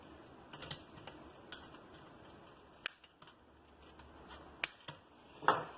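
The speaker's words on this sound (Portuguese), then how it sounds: "eu vou cortar os fios aqui mais curtinhos e eu libero aqui logo" Short, sharp clicks from cutting the wires of a fluorescent lamp ballast short, scattered snips spaced a second or more apart, close and fairly quiet over a faint background hush.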